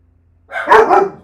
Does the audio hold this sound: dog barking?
yes